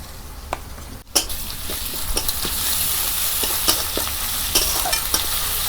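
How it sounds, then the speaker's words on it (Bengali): Garlic added to a wok of already fried onions in hot oil gives a sharp burst of sizzling, then a steady loud frying hiss with scattered spatula scrapes and stirring clatter. "এর মধ্যে আমি রসুনটা দিয়ে দেব।"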